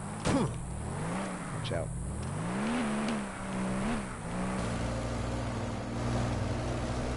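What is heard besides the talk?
car driving in the video game Lego Jurassic Park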